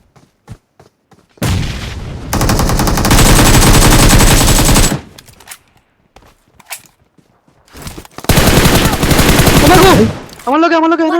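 Automatic gunfire in the mobile battle royale game PUBG Mobile: two loud, sustained bursts of rapid rifle fire separated by a quieter gap with scattered shots, and players talk excitedly over it.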